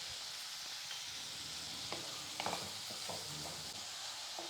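Onions sizzle steadily in hot oil with coarse salt as they are sautéed for Chettinad vengaya kose, with occasional soft scrapes and clicks of stirring in the pan.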